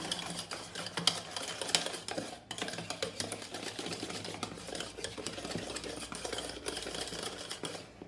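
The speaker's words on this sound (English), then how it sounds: "Now I'm gonna mix my eno in it." Eno is stirred into beetroot dhokla batter, producing quick, busy scraping and clicking from the spoon against the bowl, fairly loud and continuous with one brief pause.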